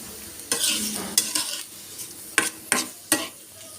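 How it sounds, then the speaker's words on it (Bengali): Onions and green chillies sizzle in a little oil while a utensil stirs them in several sharp scraping bursts, loud and close with steady frying hiss between, no voices. "একটু নেড়ে চেড়ে একটু পেঁয়াজগুলোকে আমি নরম করে নিব"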